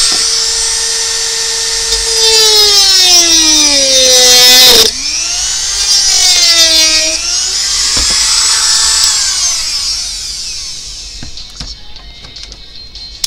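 A power tool cuts metal while a vehicle component is fitted, giving a loud, steady high-pitched whine that dips in pitch as the blade bites, with a brief break near the middle before it winds down toward the end.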